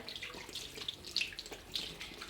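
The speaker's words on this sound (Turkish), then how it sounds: "Sonra ellerimizi arkadaşlar iyice bol bol yıkıyoruz." Hands being washed under a running tap, a faint trickle of flowing water broken by small splashes and a few sharper drips.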